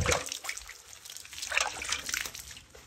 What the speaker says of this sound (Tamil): தெளிச்சு விடுமா, தண்ணி தெளிச்சு விடுமா.